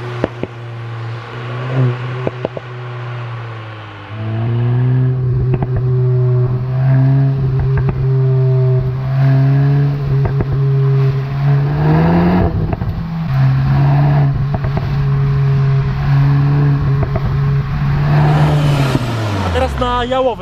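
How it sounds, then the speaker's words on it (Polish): A VW Golf 8 GTI revs hard through first and second gear, its engine note climbing and holding. Sharp exhaust pops and crackles break through near the end, loud and close. "Posłuchajcie, jak strzela z wydechu."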